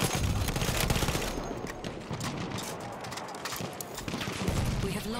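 Machine gun fire in the Battlefield 1 video game: rapid bursts of shots with dense crackling battle noise throughout, fairly loud and continuous, no clear talk.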